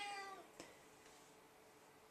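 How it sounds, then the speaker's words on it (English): A domestic cat meows once in a drawn-out harmonic cry at the start, fairly close, then a quiet room with a faint click follows. "my cat is meowing again"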